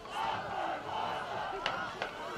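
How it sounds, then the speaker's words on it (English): A crowd at an Upper Moreland high school boys football game roars and cheers from the stands, a sustained, somewhat distant wash of voices with a couple of sharper shouts near the end. "They've woken the crowd back up, giving them something to cheer for."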